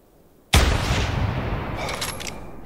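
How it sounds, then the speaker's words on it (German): A single loud rifle shot in the hunting video game The Hunter 2017 cracks sharply out of near silence, followed by a long rolling echo that slowly fades. "Schuss, Treffer."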